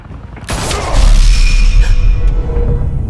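A gunshot rings out in a Batman video game, a sudden loud boom with a sharp crack that stays dense and heavy with low rumble and whooshing debris for several seconds, no talk over it.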